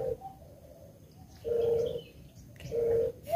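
Electronic dove-call lure playing spotted dove and zebra dove calls at a coastal hunting spot, with two clear cooing phrases and a softer one before them, over quiet background.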